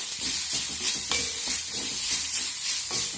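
Coriander and chili powder sautéing with turkey berries in an oily pan on low heat, a steady close sizzle broken by scraping stirs with a spoon every so often.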